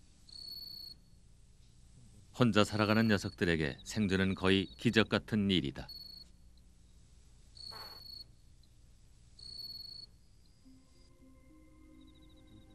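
Cicadas chirp at night in a steady, faint, high intermittent buzz, partly covered midway by a narrator's voice talking.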